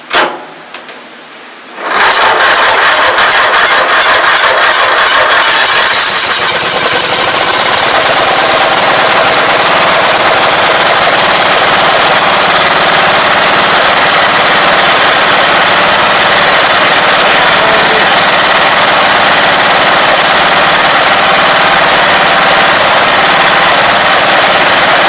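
A 1994 MTD Vari Drive yard tractor engine with a new carburetor catches after a brief crank and settles into a loud, steady, close-up running roar that continues without a break.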